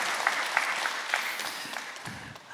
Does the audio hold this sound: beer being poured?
no